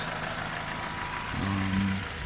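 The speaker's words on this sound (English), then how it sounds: "Make sure there's no leaks while the engine is running" A car engine idles steadily just after an oil change, a low continuous hum with a slightly fuller, louder stretch near the end, with no talking.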